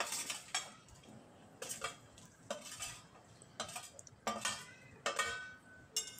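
Dried raw mango pieces being stirred with spices for a sour-spicy pickle, a spoon scraping and clinking against a metal bowl in repeated bursts, close and fairly quiet.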